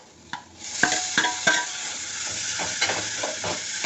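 Tomato, potato and masala sautéing in a pan, a steady close sizzle with a few sharp clinks and scrapes of a spoon against the pan near the start.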